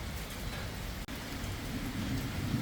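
Steady rain falls outdoors during the rainy season while eggs and frogs are boiled in a pot, a dense even hiss with a brief dip partway through, no voices.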